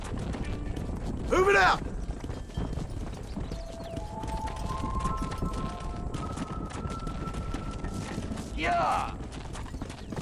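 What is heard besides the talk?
horse galloping in Red Dead Redemption video game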